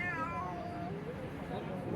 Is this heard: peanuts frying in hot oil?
no